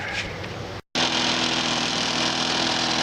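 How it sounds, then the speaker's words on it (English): A lawn mower engine revs steadily and loudly at close range, cuts out for a split second, then comes straight back in as a continuous, even drone. "We're going to fire it up one more time and do some mowing with it."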